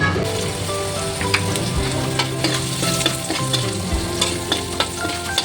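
Garlic fries with pork in a pan, a loud, close, continuous sizzle with bursts of crackling and stirring scrapes, and no one speaking.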